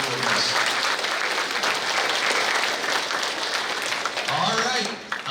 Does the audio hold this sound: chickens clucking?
no